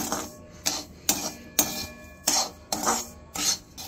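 Ragi rava being dry-roasted in a pan, stirred in a steady rhythm of about seven raspy scraping strokes, each a gritty swish of grains against metal, close and clear with no talking.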